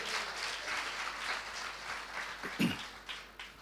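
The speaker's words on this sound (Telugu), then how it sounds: "చప్పట్లు కొడదామండి." A church congregation applauding during a Telugu worship service, a steady wash of clapping from many hands in a reverberant hall that continues throughout at moderate loudness, with a few louder claps near the end.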